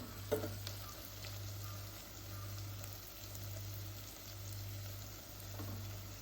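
Squid sizzles and crackles in hot oil, a steady frying hiss with a low hum pulsing underneath and occasional light clinks.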